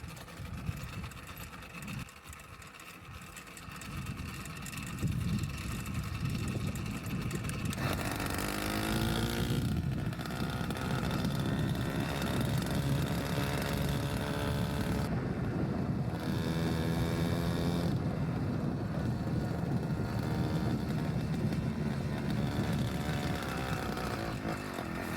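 A gasoline-engine powered bicycle is ridden, its small motor buzzing steadily and rising in pitch as it revs, with wind rushing over the microphone throughout and no talk.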